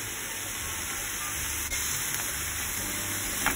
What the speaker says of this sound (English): saute them for 5 more minutes